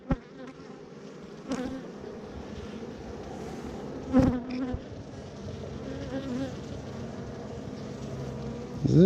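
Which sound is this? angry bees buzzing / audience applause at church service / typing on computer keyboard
angry bees buzzing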